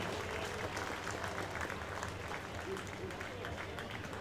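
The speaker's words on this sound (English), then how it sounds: "Let's have a nice round of applause for Angie." Outdoor crowd applause at a baseball jersey retirement ceremony, a faint, steady patter of many hands clapping that carries on for several seconds without a break.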